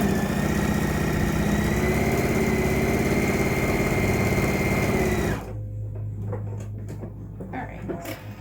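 A sewing machine stitches along the long curve of a fitted face mask, a loud, steady high-pitched motor whine that cuts off after about five seconds, leaving faint handling noises and clicks.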